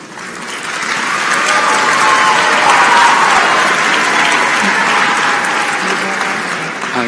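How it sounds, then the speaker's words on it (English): Sustained audience applause at a conference gala, dense and loud, swelling after the first second and holding steady before easing slightly near the end, with faint voices mixed into the crowd. "Please give another round of applause for all of our sponsors."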